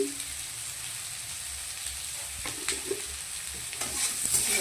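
A sour curry of mourola fish with raw mango being stirred in a pan, low sizzling with soft scraping and clinks of the spoon, close by and growing busier toward the end, no talk.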